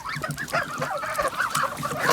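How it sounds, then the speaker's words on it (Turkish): A flock of 65-day-old geese honk repeatedly in a noisy, overlapping chorus, close by and fairly loud, with several birds calling at once. "kaz günü. Bugün kazları çekeceğim."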